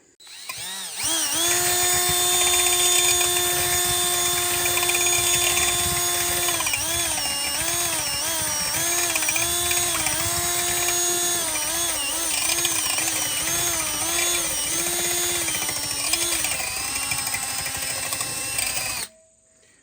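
A DeWalt power drill whirs steadily for about eighteen seconds while mixing lard lotion, its motor pitch dipping and rising as the load changes, loud and close with no talking.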